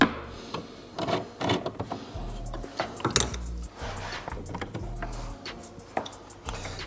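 Two T30 screws come out of the interior side pocket panels of a Porsche Cayman 718, with close tool clicks, light metallic clinks and handling rattles over a low rumble.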